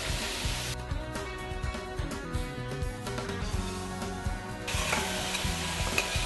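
A butter and flour paste sizzles in a pan as it is stirred, a continuous busy frying hiss with scraping movement, fairly loud and close.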